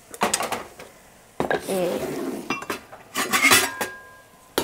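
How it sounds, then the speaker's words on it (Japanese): Metal utensils clink and scrape against a dish in quick, uneven bursts while mixing spinach and bacon for a quiche filling, close and fairly loud, with brief quiet gaps. "じゃあこれをさっと混ぜて、"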